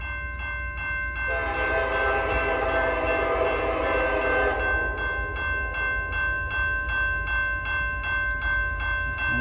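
A CN freight train passes with its locomotive horn sounding a long chord, then a rhythmic series of clacking wheel pulses from the railcars, over a steady rumble, moderately close.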